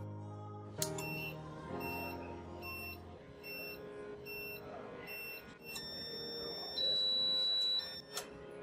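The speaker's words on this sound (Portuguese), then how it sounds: "o alarme sonoro é acionado até que a saída do Nobrake se desliga" An Attiv UPS overload alarm beeps repeatedly in short, high-pitched pulses over a steady low hum, ending in a longer continuous tone.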